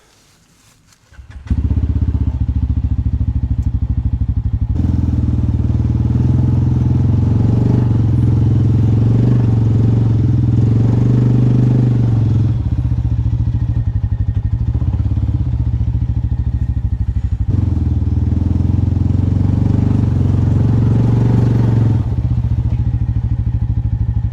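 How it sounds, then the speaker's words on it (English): A vehicle engine starts up and holds a loud, steady roar with rising and falling revs while its tires spin in place near a sawmill, heard close and continuous with no talking. "all I'm doing is spinning tires right now"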